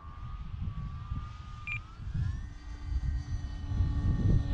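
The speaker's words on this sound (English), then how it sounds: "by no means a fast plane. I know it sounds pretty aggressive" A light propeller plane's engine drones steadily on a windy day, the pitch rising as power is added, with gusty wind rumble underneath and no talk.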